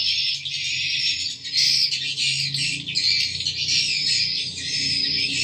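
Dense, loud chorus of swiftlet calls inside a swiftlet roost house, overlapping shrill squawks and chirps continuing without pause.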